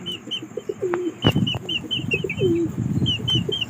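Pigeons coo repeatedly inside their coop, a series of soft, rolling calls close by, with a few sharp clicks and knocks of movement in between and no talk.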